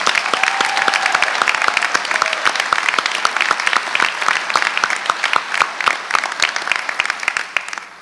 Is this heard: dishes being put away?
no